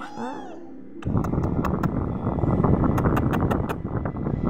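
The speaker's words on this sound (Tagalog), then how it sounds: "Mga pusa." Cats meowing as they ask for milk: one short meow at the start, then a steady windy rush with a series of faint sharp ticks on top and no further clear cries.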